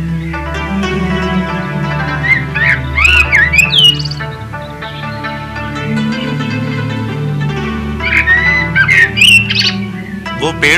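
Birds squawk and chirp in bright, wavering calls near a lake while building nests, set against a busy background of sustained tones and low rumble, with bursts of calls clustering twice.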